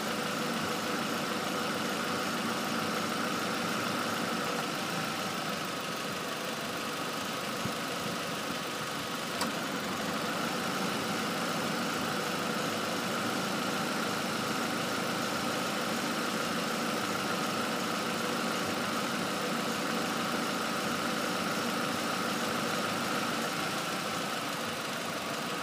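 A 2005 Nissan Altima with the 2.5 engine idles steadily for the whole stretch, a continuous, even mechanical hum with no talking.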